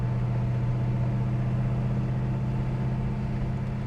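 Steady, close engine drone from a 1965 Pontiac GTO on the move, a strong low hum holding even and loud for the whole stretch with no voices.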